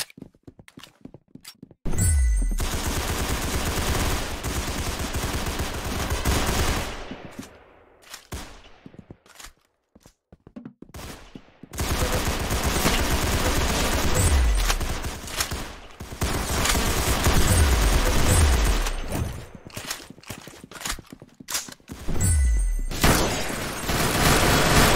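Gunfire from the Roblox game Arsenal rattles in long, loud bursts mixed with deep booms, with quieter stretches of sparse shots and footsteps in between.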